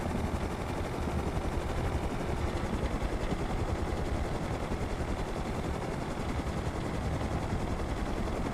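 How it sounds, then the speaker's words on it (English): A helicopter flying overhead in the video game Rust, a steady, dense rotor and engine drone that fills the whole stretch at constant loudness. "Oh, fuck, heli."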